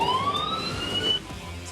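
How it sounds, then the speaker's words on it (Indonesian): Warning siren of a factory logistics robot in a car plant, a thin rising electronic wail with overtones, heard clearly for about a second before cutting off over low machinery hum. "Setiap robot sudah dilengkapi dengan sensor serta suara sirine untuk menghindari kecelakaan antar robot maupun robot dengan manusia"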